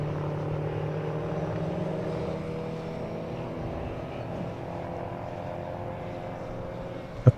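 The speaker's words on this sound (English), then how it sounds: "And there comes the Ligier now into the braking zone." A Ligier endurance race car approaching a braking zone at a South African circuit, its engine a steady distant drone that eases slightly, ending in a short sharp knock.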